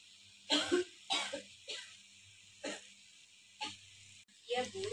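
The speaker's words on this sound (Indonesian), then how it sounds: "Teknik batuk efektif ini bisa Ibu lakukan berulang kali" A patient performs repeated deliberate coughs, practising an effective coughing technique under nursing guidance. Six short, forceful bursts come at roughly even intervals, close and clear, with quiet pauses between.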